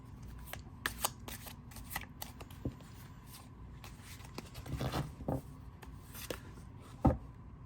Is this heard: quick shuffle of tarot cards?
yes